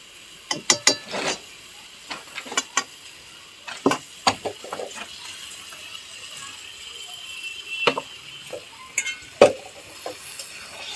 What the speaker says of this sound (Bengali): বাঁধাকপিগুলো দিয়ে একটু কষিয়ে নেব।